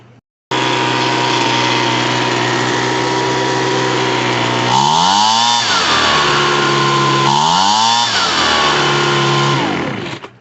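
A Ryobi BP42 gas backpack leaf blower (model RY08420A) running after a carburetor and fuel line repair, its small two-stroke engine buzzing loudly and close, rising twice into revving bursts before settling back.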